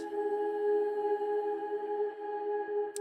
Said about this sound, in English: I layer that with some vocal one-shots from my Organic Lofi Hip Hop Volume 1 pack, which has got some really lush, dreamy vocals